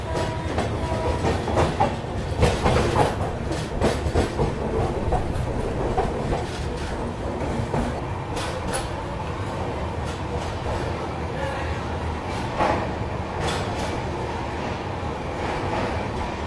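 The North East Express rolls along near Rangiya Junction with a loud, steady rhythmic clickety-clack of wheels over rail joints, heard from inside the train with a continuous rumble throughout.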